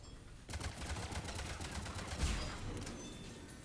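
Automatic turret fire in the video game Mass Effect 3, a rapid, steady burst of shots starting after a brief quiet moment and continuing at moderate loudness, with one heavier impact partway through.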